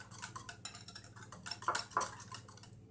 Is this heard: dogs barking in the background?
no